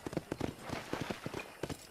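Horse hooves clip-clopping at a steady trot in Red Dead Redemption 2, a rapid run of close, distinct hoof falls continuing evenly throughout.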